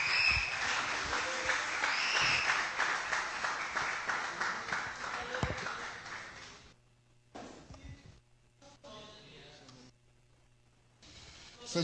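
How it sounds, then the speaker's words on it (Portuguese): A church congregation at a Thursday evening service applauds loudly and steadily for about six seconds, then the clapping breaks off into quieter, scattered room sounds and brief voices. "Aplaude o nome do Senhor"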